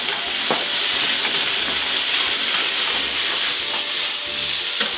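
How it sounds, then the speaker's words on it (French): Burgers flambéed with cognac in a hot pan give off a loud, steady sizzling hiss, with faint scraping and stirring sounds over it. "Mon père a volé du cognac, n'inquiétez-vous pas, j'en ai encore plein en réserve. Cognac en flambe."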